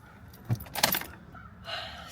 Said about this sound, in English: I'm putting it in the ignition.